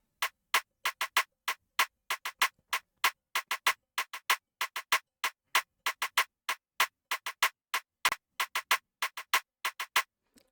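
A sampled afrobeat drum programmed in FL Studio hits in a quick, steady run of sharp, close, dry strikes with varied velocity, each short and punchy, with no voices.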